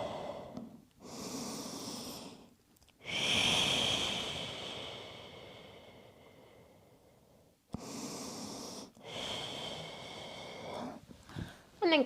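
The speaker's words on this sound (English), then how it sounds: "And breathe." Slow, deep breaths during a Pilates rest pose, knees wide and hips sitting back. Several long, close inhales and exhales come in separate bursts with quiet gaps between them, and no talking over them.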